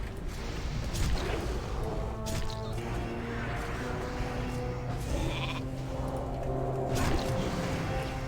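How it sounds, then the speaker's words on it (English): A sheep bleats repeatedly in World of Warcraft over a busy, dense wash of game noise, with thumping impacts now and then. "I was a sheep for a little bit there."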